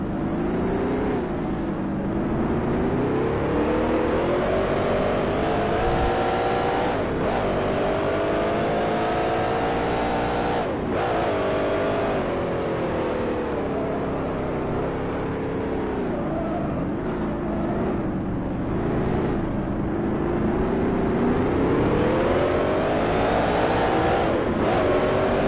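A 1969 Can-Am race car in the Grand Prix Legends racing game, its engine a continuous loud drone that rises and falls steadily in pitch as it runs at speed, with no talking.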